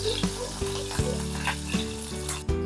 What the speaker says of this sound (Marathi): कढीपत्त्याचे चार पाच पानं घालायचे आणि आपल्याला हे एक दोन सेकंद फक्त आपल्याला हे तेलात परतून घ्यायचं आहे